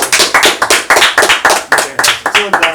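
Steady hand clapping at a studio rock talk show, roughly four crisp claps per second, close and sharp, with no voices over it.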